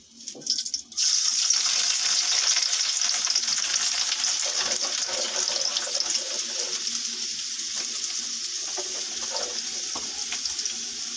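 Garlic hits hot oil with a sudden loud hiss that settles into steady, close sizzling and crackling, with no speech.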